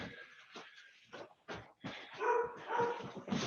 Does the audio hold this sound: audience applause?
no